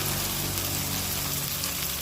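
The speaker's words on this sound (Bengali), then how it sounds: "গরম তেলে গোটা গরম মশলা দিয়ে তারপরে পেঁয়াজগুলোকে দিয়ে দিচ্ছিলাম।" Onions fry in hot oil with whole spices for a chicken curry, making a loud, dense, unbroken sizzle close to the pan.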